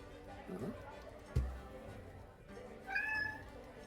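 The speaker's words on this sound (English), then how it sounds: "that's my cat that's looking for supper" A pet cat meows for its supper, with two short meows, one early and one near the end, between a sharp knock and background chatter from people talking.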